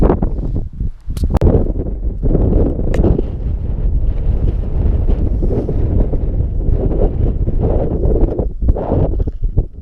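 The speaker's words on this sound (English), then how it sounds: "Right, the wind's picking up" Strong wind buffets the microphone on the open slopes of Arenig Fawr in Snowdonia, a loud, continuous low roar with gusting surges and a few sharp knocks near the start.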